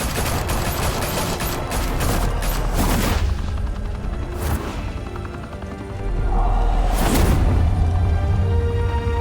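Sustained video game gunfire fills the whole stretch, rapid volleys and bursts with heavy booms and thuds, loud and close, swelling again toward the end.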